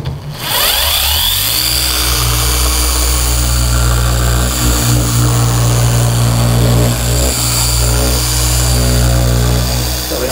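Loud polishing machine spinning up and running steadily on the paintwork of a Jaguar car, a continuous whirring motor drone with a rising tone at start-up and no talk over it.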